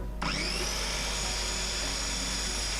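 A power cutter slices through an Amtico wood-look vinyl stair tile, a steady high-pitched whine starting abruptly and running loud and continuous to the end, with no talking.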